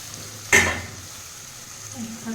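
Garlic, ginger and cumin paste with chopped and pureed tomato hit hot oil in a pan, one sharp loud sizzling burst that fades into a steady low hiss, with faint stirring scrapes near the end.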